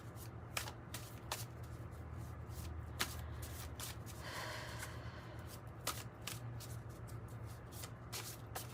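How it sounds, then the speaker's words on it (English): Playing cards being shuffled by hand over and over, with sharp riffling bursts and soft sliding between them, close and steady at moderate level with a low hum beneath and no talk. "I've been shuffling long enough."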